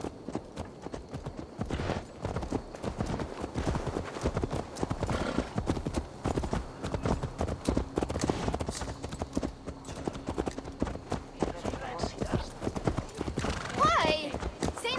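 Horse hooves clip-clop steadily in Assassin's Creed Valhalla on PS5, a continuous rhythmic trot at moderate distance, with a neigh or whinny near the end and speech running over it.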